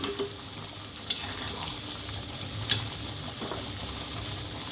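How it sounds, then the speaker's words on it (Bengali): Paneer being stirred in a pan with a little water and spices, a soft, steady bubbling sizzle with two sharp metallic clinks from the utensil against the pan. "অল্প জল দিয়ে একটু নাড়াচাড়া করে নিয়ে পনিরটা দিয়ে দিলাম"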